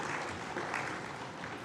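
A seated audience at a post-budget discussion applauds steadily, a dense, even wash of clapping held at moderate, slightly distant level throughout.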